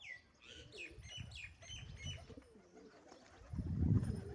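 A pigeon on a rooftop coos among scattered higher chirps and calls, moderately faint over low background rumble that swells louder near the end.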